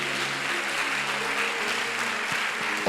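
Congregation applauding and cheering for the Lord Jesus Christ at a church service, a steady, dense wash of clapping with sustained crowd noise and a held tone underneath.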